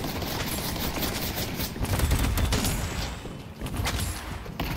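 Gunfire in the Valve video game Deadlock: sustained rapid shooting with dense repeated shots and a few sharper cracks, steady and fairly loud throughout the stretch.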